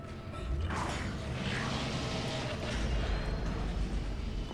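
Heavy tram machinery in the sci-fi horror game Dead Space creaks and grinds continuously under a low mechanical rumble, steady and fairly loud with faint whooshing strains, no talking.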